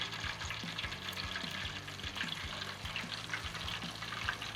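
Battered buttermilk chicken is lowered slowly into hot oil and bubbles in a steady, fairly quiet fry, a constant crackling hiss with small popping bursts throughout.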